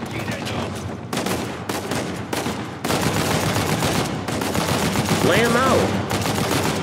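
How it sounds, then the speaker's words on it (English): Rapid gunfire from the action game Uncharted 4: A Thief's End, loud bursts and sustained volleys with brief gaps, someone talking over the shooting throughout. "he's shooting the shit out of me"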